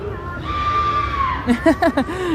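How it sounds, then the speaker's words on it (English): Screams at Halloween Haunt scare zones at Canada's Wonderland: a long sustained shriek, then several short sharp yelps in quick succession over a busy crowd murmur. "You hear the screams, actually."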